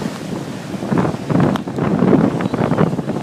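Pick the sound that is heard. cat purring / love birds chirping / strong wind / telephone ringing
strong wind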